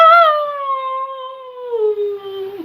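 Little wolf cubs give a long, wavering, tonal howl that starts higher and slides slowly downward, ending in a small whimpering break, close and fairly loud with no other sounds.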